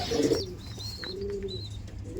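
Low, throaty cooing from a female Kasni pigeon nearby, a couple of rolling calls with faint higher chirps in the background.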